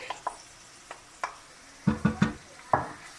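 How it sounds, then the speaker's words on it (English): Tomato puree scraped from its container into a pan of softened onions, heard as a handful of short, quiet scrapes and taps, with a quick cluster of three near the end. "I'm going to scrape out all my tomato puree"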